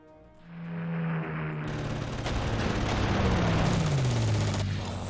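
Gunfire and artillery in the WWII strategy game Panzer Corps, during a battle at Stalingrad: a dense, continuous rumble of shots and booms that swells after the first second and stays loud, with a low droning tone running underneath.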